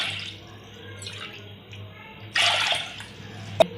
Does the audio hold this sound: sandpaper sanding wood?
no